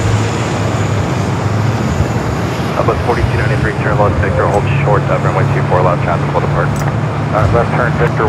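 A Virgin Atlantic Airbus A350-1000 at LAX rumbles with a steady, loud jet engine drone near the taxiway, broadband and continuous, while a voice talks over it.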